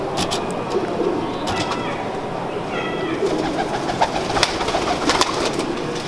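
Salare Teddy pigeons coo repeatedly close by, a steady run of low throaty calls over a constant noisy background, with faint chirps mixed in.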